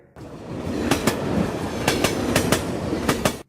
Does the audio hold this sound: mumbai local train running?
yes